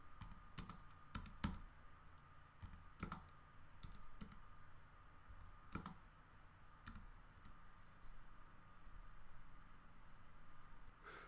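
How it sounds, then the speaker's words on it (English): Someone types data values from hemocytometer cell counts into lab software on a computer keyboard. Scattered clicks and short bursts of keystrokes come over a quiet room hum, faint and close, with no talking. "as we count the fields within the hemocytometer, we can type in the values right into the CCLims"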